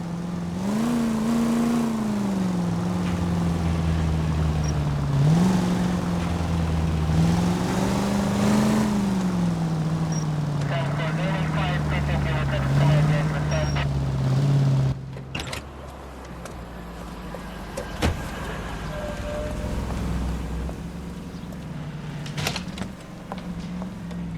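A car in the video game L.A. Noire, a steady engine drone rising and falling as it accelerates and cruises, then quieter running with knocks and bumps later on.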